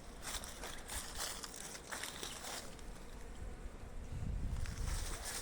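Honey bees flying around wooden and polystyrene hives in spring, a steady dense buzzing hum filling the air, fairly close, with a low rumbling swell near the end.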